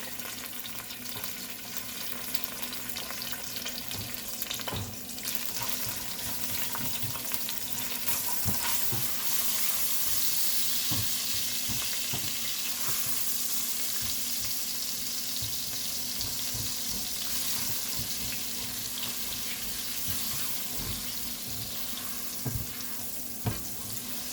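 Peas and a crumbled chicken stock cube fry in a pan for egg fried rice, giving a steady close sizzle with scattered stirring scrapes and clinks throughout, with no talking.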